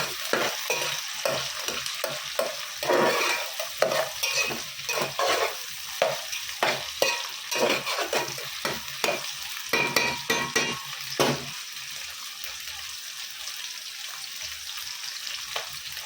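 Chili and garlic sizzle and fry in a pan while being stirred, with repeated scraping strokes over steady crackling close by, the stirring stopping toward the end as the frying continues.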